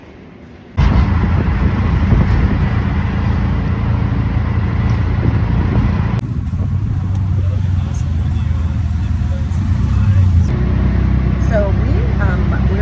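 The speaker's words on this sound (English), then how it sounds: "So we're in a grab right now, a little tuk-tuk" Riding in a small tuk-tuk through Cambodian traffic, a loud, steady engine rumble and road noise close by that starts abruptly after a quiet moment and continues throughout, with people talking over it.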